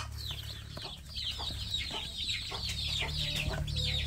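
Village chicks in a rearing box, with many high peeping chirps overlapping continuously over a low steady hum.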